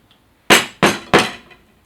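Three sharp knocks in quick succession as the excess is knocked out of a hollowed carrot, hard and close, each decaying quickly, with quiet before and after.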